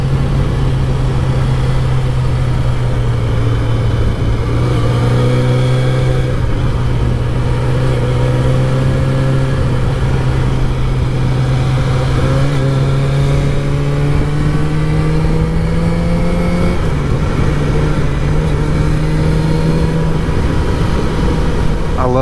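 Vehicle engine droning steadily while riding around a lake, with a low sustained tone that rises gradually, dips and shifts pitch near the end; loud and close throughout, no talking.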